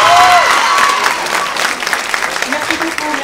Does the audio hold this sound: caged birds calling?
no